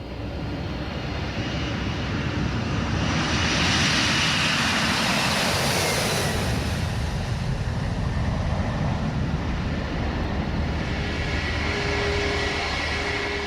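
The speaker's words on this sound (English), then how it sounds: "it's the turn of an American Airlines Boeing 767 departure for London" An American Airlines Boeing 767 departs for London, its jet engines swelling into a loud, broad roar that peaks and then slowly fades into a distant rumble.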